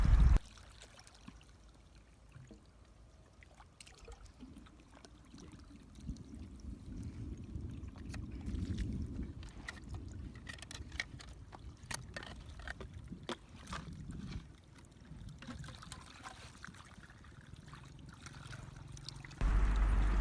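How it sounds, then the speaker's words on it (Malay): An engine-driven water pump pushes water through a farm sprinkler pipe to flush out drilling debris, giving a long, steady low rumble and rushing flow with scattered clicks and splashes, moderately distant. "menghidupkan pump enjin supaya membuang sisa-sisa potongan ataupun sisa-sisa kita menebuk lubang pipe terlebih dahulu"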